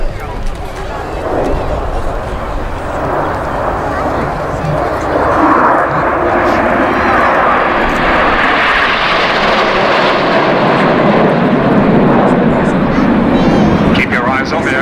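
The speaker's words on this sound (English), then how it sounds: "Keep your eyes on the aircraft now as the formation changes into flanker" Red Arrows jets fly in formation at a Biggin Hill air show, their engines a loud, broad roar that builds and holds across the whole stretch. An announcer's voice runs over the top.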